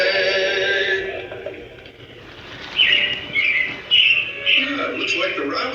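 Robins chirping and calling in repeated short bright bursts, moderately loud over a steady background hum, with a voice talking underneath.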